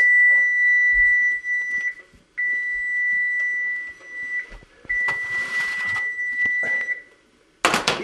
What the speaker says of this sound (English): we should probably turn off this timer